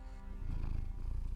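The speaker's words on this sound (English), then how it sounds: "I hear purring. Lots of purring." Steady low rumbling purr from a cat, soft and continuous, rising slightly in loudness partway through with no talk over it.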